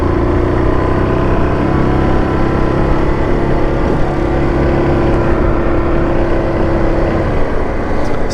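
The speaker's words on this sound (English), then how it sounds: "Just gotta let this car go by." A car passes close by on a town street beside a parked ATV near a gas station, a steady loud engine and road rumble holding through the whole stretch with no talk over it.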